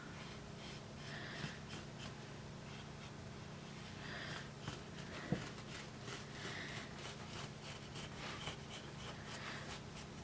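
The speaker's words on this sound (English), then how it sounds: "So here I'm going to just draw" A pen scratches out a heart shape on folded quilted fabric for a pin cushion, a faint, soft, steady scraping close by with a few light taps and no talking.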